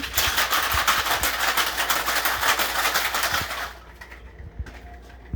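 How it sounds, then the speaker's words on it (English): An apple cider and cinnamon drink is shaken hard in a cocktail shaker, a dense rattling of ice that runs steadily for about four seconds, then stops, leaving a few faint clinks. "Give it a little shaky."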